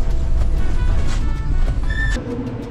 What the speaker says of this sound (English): We finally made it on the bus.